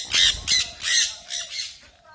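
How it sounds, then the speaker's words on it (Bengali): A flock of birds squawks in a rapid, uneven series of five harsh calls, fairly near and moderately loud, with a faint hum underneath. "আসলে এরা অনেকগুলো পাখি যখন একবার ডেকেছে কুকুরি ভয় পেয়ে গেছে"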